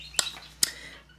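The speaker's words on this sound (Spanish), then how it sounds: "mi pajarito no para, no sé si lo oís, está aquí loco perdido" A pet bird gives two short, bright chirps about half a second apart, fairly close, against a quiet room with a low steady hum.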